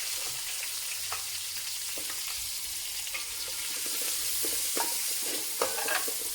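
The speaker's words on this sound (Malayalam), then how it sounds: "ഇനി ഇതിലോട്ട് സവാള അരിഞ്ഞിട്ട് കൊടുക്കാം." Chopped onions sautéing in a pan for kothu parotta, a steady soft sizzle with scattered stirring clicks and scrapes that pick up toward the end, close and even with no voices.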